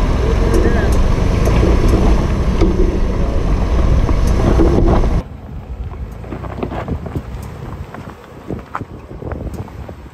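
A Ford Bronco driving off-road gives a loud, rumbling roar for about five seconds, then the engine noise drops to a quieter, uneven drone with scattered knocks and rattles.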